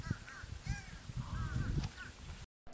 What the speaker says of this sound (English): we saw a bunch of fish crow flew overhead